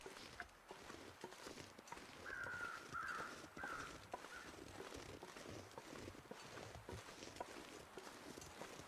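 Crows caw a few times in the wintry wilderness of The Long Dark, the harsh calls rising mid-distance over steady wind and crunching footsteps.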